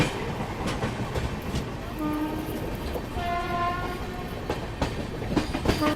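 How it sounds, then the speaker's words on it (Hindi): A passenger train passes by on an Indian line near Santragachi, a rumbling roll with rhythmic wheel clatter and short horn tones sounding over it. "कोई तो पैसेंजर ट्रेन निकली यहाँ पे"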